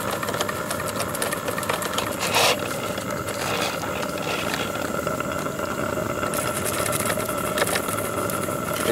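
A model steam engine, not yet at full steam, powering a remote-controlled paddle wheeler boat on the water, a continuous close mechanical chuffing and whirring hum that runs steadily throughout with no talk.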